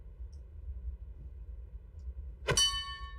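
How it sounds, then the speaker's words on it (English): A train bell in the Minecraft video game rings once as a single bright metallic clang with a ringing tail, over a quiet low background rumble. "you can hit the bell when you bend down"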